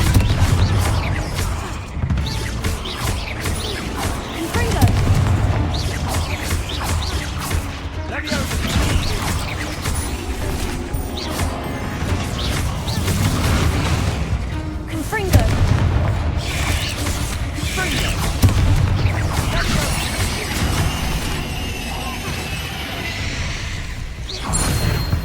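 Confringo spell explosions going off in a tomb in the Hogwarts Legacy video game: repeated booming blasts and crashes through a dense stretch of game sound, with voices speaking over parts of it.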